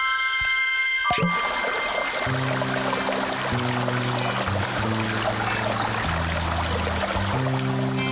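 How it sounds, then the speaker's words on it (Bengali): A steady broadband rush of a waterfall, apparently in a cartoon scene, runs throughout at constant loudness, with music playing over it after the first second. "ওটা হলো ঝর্ণা"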